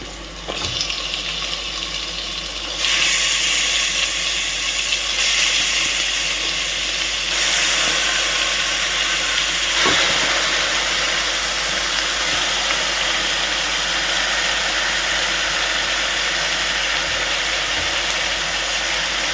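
Washed chicken pieces go into a hot pan for chicken curry, and a loud, steady sizzling hiss rises after a few seconds and keeps going without a break.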